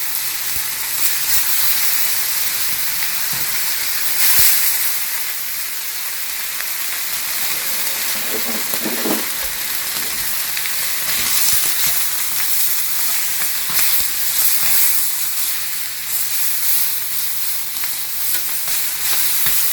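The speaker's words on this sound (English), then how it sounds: "I'm just quickly going to sear our ham with spinach in the pan" Ham and spinach searing in a hot pan, a steady, close hiss of frying that runs on unbroken, with a faint clink of utensils partway through.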